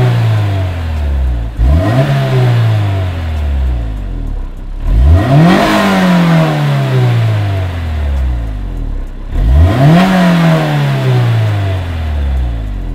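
A Honda S2000 sports car engine revs hard three times, each roar climbing then falling back to idle, loud and close with a raspy, throaty edge.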